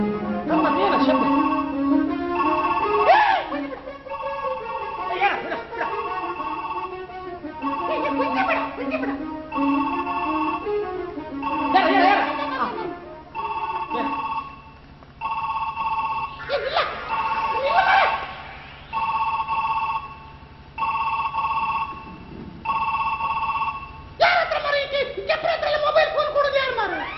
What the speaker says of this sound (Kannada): ಆವಾಗದಿಂದ ಮೊಬೈಲ್ ಫೋನ್ ಕಿಣಿ ಕಿಣಿ ಕಿಣಿ ಕಿಣಿ ರಿಂಗ್ ಆಗ್ತಾ ಉಂಟು